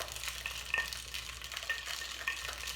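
Ice rattles in a cocktail shaker as a whiskey sour is wet-shaken, a fairly quiet, continuous rapid shuffling with faint clinks, no voices.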